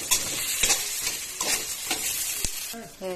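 Beef short ribs browning in a pan while being stirred, a constant close sizzle broken by repeated scraping strokes and a sharp knock, with a brief voice near the end.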